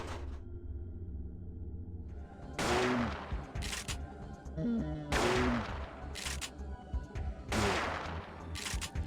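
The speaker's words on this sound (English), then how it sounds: "I'm going to go back through the storeroom so I can try out this shotgun." Shotgun blasts in Parasite Eve 2, three loud, booming shots spaced a few seconds apart, each followed by a clacking reload over a low rumbling game background.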